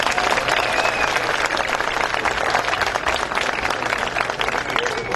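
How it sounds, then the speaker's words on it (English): Audience applause at the 25th-year opening light show of a Wonderland park, a steady dense wash of clapping from a large crowd lasting throughout, loud and close. "I really would like to give all of them a round of applause for all the effort that they put in"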